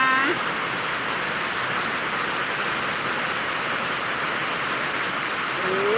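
Heavy rain pouring down, a dense, continuous hiss that stays loud and even throughout, with a faint brief voice at the start and end.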